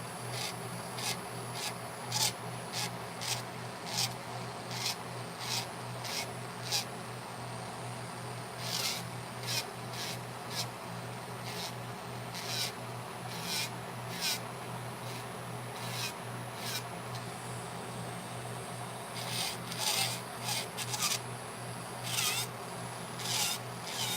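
Steady rasping strokes of a file shaping fingernails during a manicure, a close, repeated scratchy rhythm in bursts with short pauses, over a constant low hum.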